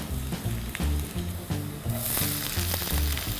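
Garlic sizzles in hot oil with cumin seeds in a pan for a palak paneer pulao, a steady close frying crackle with faint pulsing background music underneath.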